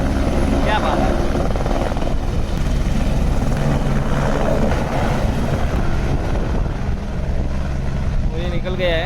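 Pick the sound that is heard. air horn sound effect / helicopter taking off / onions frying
helicopter taking off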